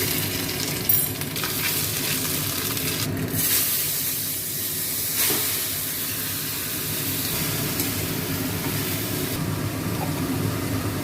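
Chilli, leaves and five-spice seeds tempered in hot oil for a bottle gourd curry: a steady, dense sizzle and hiss runs throughout, close and fairly loud, with a few faint clinks of a utensil against the pan.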